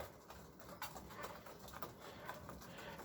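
Sick pigeons cooing softly in a disease-struck coop, low murmuring calls overlapping continuously with faint rustling. Quiet and close, no voices.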